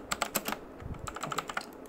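Rapid typing on a computer keyboard, a steady run of close, crisp key clicks with a few louder strikes mixed in, no voice over it.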